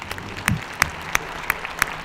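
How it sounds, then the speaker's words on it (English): Audience at a Dell and MathCounts mathlete quiz event claps for the coaches standing up, sparse scattered claps with a few sharp loud ones over a brief murmur, close and short-lived. "if you guys would mind just standing up for a round of applause."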